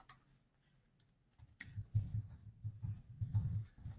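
Keys clicking on a computer keyboard, quiet scattered taps at first and then a quicker run of soft typing strokes, close and faint with no voices.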